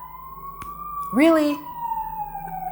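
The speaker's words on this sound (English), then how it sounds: "I live in a busy street, so there's always sirens" An emergency vehicle siren on a busy street holds a steady, slowly falling wail in the distance while a voice speaks a single word over it.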